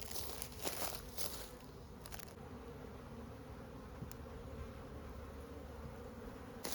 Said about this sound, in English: You can sort of hear the bees change their attitude when brood gets added to their hive when they're queenless.